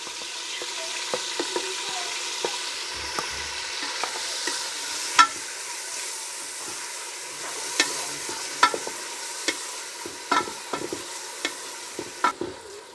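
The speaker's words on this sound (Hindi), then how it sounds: "हम इसे थोड़ा थोड़ा भून लेंगे" Onion and green garlic frying in hot oil for a village-style chicken feet dish, a steady quiet sizzle with scattered stirring clicks and scrapes of a spoon throughout.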